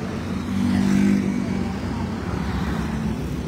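City street traffic with cars passing close by, a steady rumbling roar that swells once as a vehicle goes past and then settles into a continuous wash of engine and road noise.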